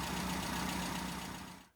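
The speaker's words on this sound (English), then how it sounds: "give the engine a rev, so you can hear what it sounds like" Car engine fitted with SU carburettors being revved during tuning, a close, steady mid-pitched engine drone with a rhythmic pulse that holds briefly and then cuts off.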